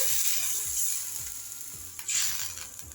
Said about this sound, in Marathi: एक वाटीभर पाणी टाकते मी यामध्ये